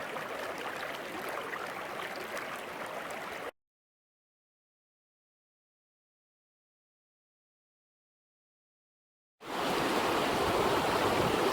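Harper Creek in Pisgah National Forest rushing steadily, a broad close wash of flowing water that cuts to silence for several seconds and then returns just as loud.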